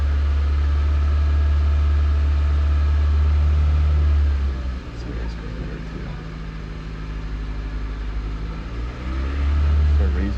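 A warmed-up car engine holds a steady high-idle drone under throttle, with a dip in the middle and a rise again at the end, heard close up with someone talking over it.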